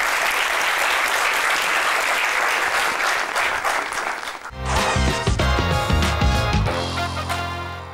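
Studio audience applauds loudly for several seconds on a television talk show, then the clapping gives way to a burst of show music.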